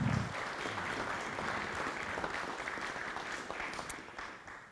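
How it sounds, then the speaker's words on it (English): An audience at a Rotary club meeting applauds a sponsor, steady broadband clapping from a room full of people that holds evenly for several seconds, then slowly thins out and fades. "Let's give him a round of applause."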